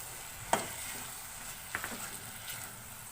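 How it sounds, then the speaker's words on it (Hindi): Peas stirred into carrots softening over a medium flame in a pan, with a steady low sizzle and a few sharp clicks and scrapes of the spoon against the pan, close and fairly quiet with no talking. "अब हम इसके अंदर 1 कप मेरे पास ये मटर है, इनको ऐड करेंगे,"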